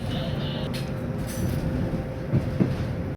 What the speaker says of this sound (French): Nous arrivons en gare de Smolensk.